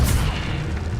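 Incendio fire spell cast in the game Hogwarts Legacy, a loud booming burst with a deep rumble that fills the whole moment.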